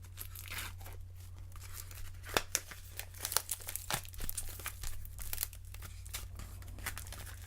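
Plastic wrap crinkling and tearing as it is peeled off a CD case, a continuous close, quiet rustle with sharper snaps throughout over a low steady hum.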